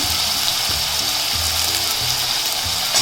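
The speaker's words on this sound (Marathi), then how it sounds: "आता कांदा टाकते हिरवी मिरची टाकते कढीपत्ता" Onion, green chili and curry leaves frying in a hot pan of oil with garlic, giving a steady, dense sizzle and crackle that runs unbroken throughout.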